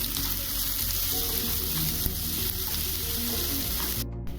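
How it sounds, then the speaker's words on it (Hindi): Chopped onions fry with bay leaf and red chili in a pan, giving a dense, constant sizzle close up, with light crackling and occasional stirring throughout. "चलिए प्याज को अच्छे से गोल्डन ब्राउन होने तक भून लेंगे।"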